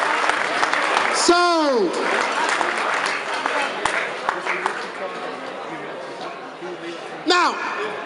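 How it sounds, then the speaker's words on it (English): At a charity auction, an audience breaks into applause after a lot sells, a steady wash of clapping under an auctioneer's voice, with a few sharp knocks standing out. "Give them a round of applause."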